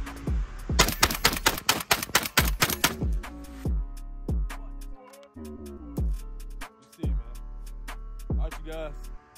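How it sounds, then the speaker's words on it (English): A handgun with a G-Flex trigger fires a rapid burst of loud, closely spaced shots that empties the magazine, followed by several slower, separate single shots with short gaps between them. "I'm about to just mag dump it since it wanna run that"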